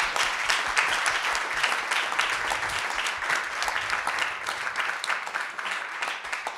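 An audience at an evening event for local elected officials breaks into sustained, loud applause, dense clapping filling the room evenly for several seconds with no break.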